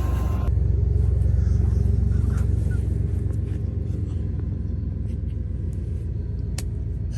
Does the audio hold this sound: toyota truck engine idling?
yes